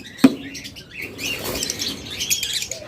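Albino ring-necked lovebirds in a cage give one sharp close chirp, followed by soft, continuous wing flutters and rustling with faint scattered tweets.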